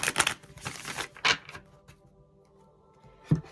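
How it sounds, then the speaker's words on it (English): Tarot cards are shuffled nearby in quick papery riffles and taps, clustered at the start and then trailing off into a quiet pause before a final soft knock. "Let me shuffle these once."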